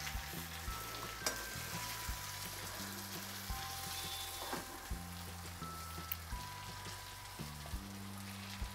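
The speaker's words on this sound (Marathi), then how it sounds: "आता हे दुसऱ्या साईडून थोडेसे भाजून घेऊया." Stuffed brinjals, just flipped, fry gently over a low gas flame with a soft continuous crackle and occasional small pops, while low background noise hums beneath.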